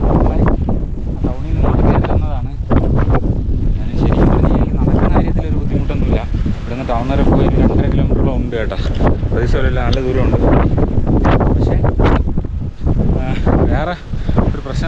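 Strong, gusty wind roars across a hilltop wind farm at Chathurangapara, buffeting the microphone continuously, loud and close, with a voice talking intermittently beneath the rushing noise.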